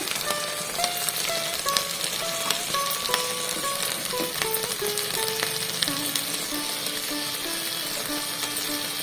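Cumin seeds fry gently over a low flame along with tomato and fenugreek leaves for a methi chutney, giving a dense, even sizzle and crackle with faint stirring sounds throughout.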